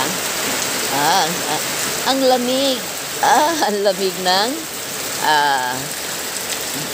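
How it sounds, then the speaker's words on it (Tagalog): Steady rain falls on surfaces, a constant hiss under a voice as he speaks in Filipino intermittently over it. "Tubig sa ulan."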